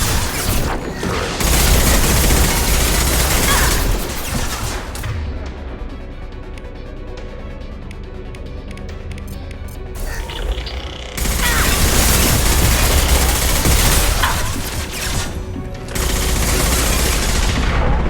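Heavy gunfire pounds a turret in Mass Effect with sustained, loud, dense bursts, easing into a quieter stretch of rumbling mechanical noise before another long volley starts up.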